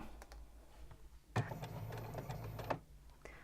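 A domestic sewing machine stitches over the folded pleat of a fabric garment back, heard as one faint whirring burst of about a second amid quiet room tone.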